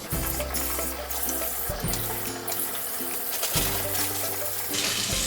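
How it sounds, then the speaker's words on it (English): Tap water runs steadily into a sink while a yogurt and grapefruit face peel is rinsed off, a continuous close splashing stream with a few shifts in flow and no talk. "right now I'm just rinsing it off"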